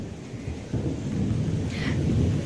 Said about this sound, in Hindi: यहाँ इतनी तेज बारिश हो रही है